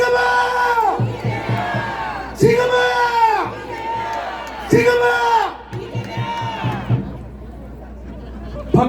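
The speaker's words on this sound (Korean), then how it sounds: "여러분 박수로 환영해 주시기 바랍니다" Large outdoor crowd at a presidential election campaign rally in a public square in Gwangju, roaring in repeated waves of shouts and cheers, loud and close, with an announcer's voice over it.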